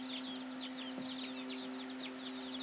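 Four-day-old Orpington chicks chirp continuously indoors, a flock of many overlapping high peeps over a steady low hum, fairly close and moderate in level.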